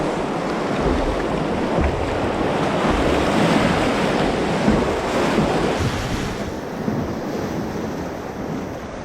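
Rushing river rapids on a remote canoe route during a rainstorm, a steady broadband roar of churning whitewater with wind buffeting the microphone, continuous and close throughout with no voices.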